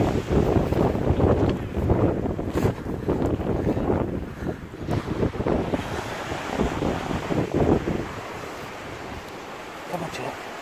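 Strong wind buffets the microphone on a dog beach, with roaring gusts and surf rolling in continuously and loudly before easing toward the end; no talking is heard.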